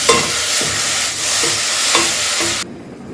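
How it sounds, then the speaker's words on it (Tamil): Curry leaves are dry-sautéed in a pan with no oil, giving a steady loud crackling sizzle with rhythmic scraping stirs, close and continuous before cutting off abruptly near the end. "கருவேப்பிலையை நல்லா வதக்கிக்கணும் ஆயிலெலாம் போடக்கூடாது எதுவுமே போடாமல் வதக்கிக்கணும்"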